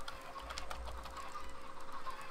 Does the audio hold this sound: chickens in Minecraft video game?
yes